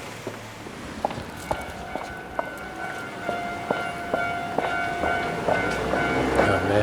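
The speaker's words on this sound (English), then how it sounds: "train's coming. I love that sound" A train passing in Tokyo sends a regular clack-clack of wheels over rail joints, moderately distant and slowly building in loudness over a steady rolling hum.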